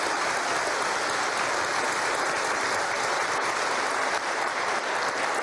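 A crowd at a Bolivian presidential forum applauds steadily, dense clapping from many hands sustained at an even level throughout, with no talking.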